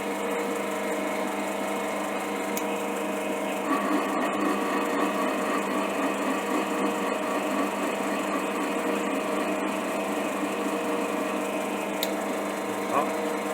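A metal lathe cuts a thread on a homemade tap of hard 45NCD16 steel, a steady continuous machining hum and whine running close throughout with faint scraping ticks, no clear talk.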